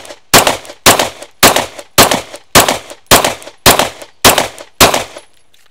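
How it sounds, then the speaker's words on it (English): Nine loud gunshots at 25 yards on a training range, fired at a steady, even pace. Each is a sharp, close crack with a brief ringing tail, and no one talks between them. "Ten shots at a pace that's a sense of urgency, but it's also a little bit calmer."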